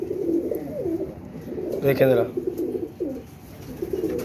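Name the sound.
pigeons being checked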